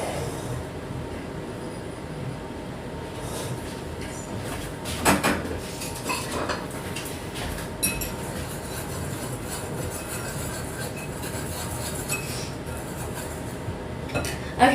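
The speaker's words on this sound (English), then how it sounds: "whisk together your flour and" Flour and baking powder are whisked together in a bowl for cupcakes, giving a steady scraping, rattling whir under a constant low rumble, with a few louder clanks against the bowl.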